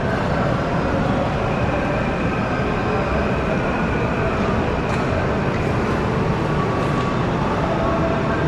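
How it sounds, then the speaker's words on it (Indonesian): An LRT light rail train pulls into Velodrome station, giving a loud, steady rolling rumble and rail roar that holds unbroken from start to finish. "nanti ada LRT lagi nih yang akan masuk stasiun Velodrome."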